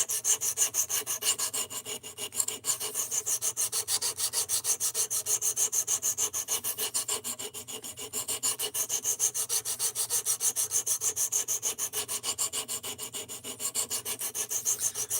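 A blade is drawn across a 220-grit sharpening stone in quick, even back-and-forth rasping strokes. The scraping stays loud, close and continuous throughout, with no voices.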